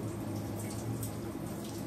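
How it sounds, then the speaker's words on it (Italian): Shower water runs in a steady, even spray, close and continuous, as if pouring out during a shampoo wash with no voices over it. "non potevo chiudere l'acqua e stavo bagnando tutto"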